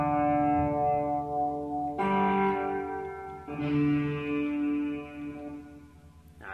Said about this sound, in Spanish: Ah, este es el fuzz, qué guapo el fuzz.